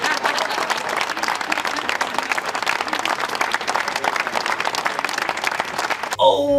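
Crowd clapping at a British election event, continuous dense applause that carries on without pause, with a voice talking over it and a brief sound change at the very end.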